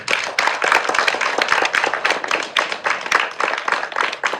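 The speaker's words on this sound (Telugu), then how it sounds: "గట్టిగా చప్పట్లు కొట్టండి." An audience at a spiritual talk claps loudly, a dense, continuous burst of many hands applauding at close range with no clear pauses.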